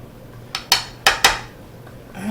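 Four sharp metallic clanks ring out in a pan as seasoned chicken is mixed around, each knock decaying quickly, with quiet gaps between and no talking.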